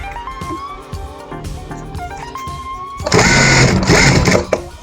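Sewing machine stitching piping onto a handcrafted sofa seat, a close whirring motor that starts and stops in short runs, then a louder continuous burst of fast stitching.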